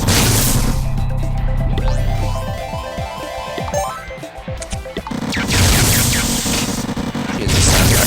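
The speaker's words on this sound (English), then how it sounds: "that gunfire is insane" Dense, relentless gunfire and explosions from the mobile game Survivor.io, a loud nonstop barrage of crashes, pops and bursts layered over game music with no talking.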